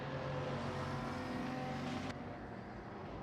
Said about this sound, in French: attention avec la voiture endommagée, ça arrive fort derrière avec l'Audi, c'est Jean-Phi